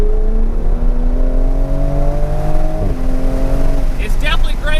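Loud, close engine drone of a 2020 Toyota Supra with an 8-speed paddle-shift transmission, its steady pitch rising slowly, then dropping sharply at a gear change before climbing again, with a voice starting near the end.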